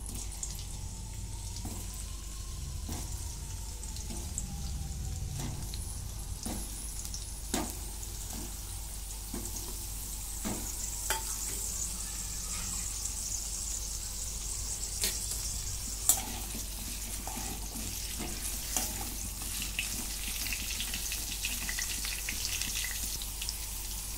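Stuffed ridge gourd pieces fry in oil in a wok with a soft, continuous crackling sizzle. Faint clinks and scrapes of a utensil come up now and then, and there is no talk.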